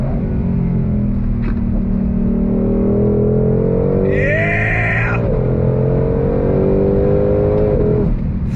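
A 2022 Ford Shelby GT500 Heritage Edition with a Tremec transmission revs hard under throttle, the engine note climbing and shifting loudly up close, with a brief excited shout from a driver.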